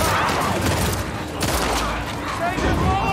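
Gunfire in the zombie game The Last of Us Part II, rapid overlapping shots and booms in a loud burst, with voices speaking over them.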